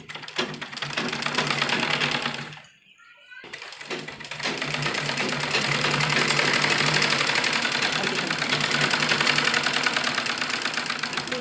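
A sewing machine stitches plus-size palazzo pants for a 60-inch hip, giving a close, continuous rapid mechanical whirring. There is a brief pause early on before it resumes steadily to the end.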